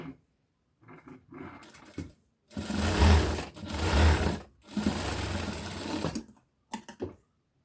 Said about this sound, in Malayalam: ഇതിൻ്റെ ബാക്കി ഭാഗം നമുക്ക് അങ്ങനെ സൈഡിൽ നിന്ന് അടിച്ചുകൊണ്ട് വരാം